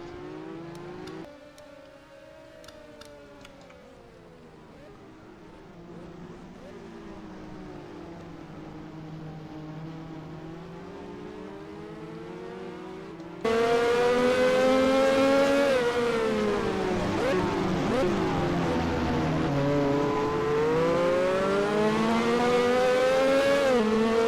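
Indy race cars lapping the Daytona road course in a racing video game, engine whines rising and falling through gear changes, one steady drone that abruptly jumps louder and richer midway, as if a closer car takes over.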